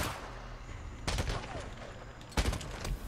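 Days Gone gunfire: two sharp bursts of shots about a second apart, each with a short rattling tail, over a low rumbling game backdrop.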